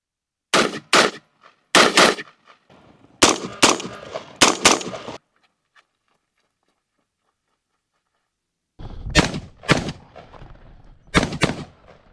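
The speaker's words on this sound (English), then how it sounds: "we're going to shoot a 50-yard group with this, and we're going to shoot a 100-yard group with this rifle" Shots from an Anderson Manufacturing Frontline 16 rifle at an outdoor range come as sharp, loud reports in quick pairs and short strings, with a long silent gap before a final burst.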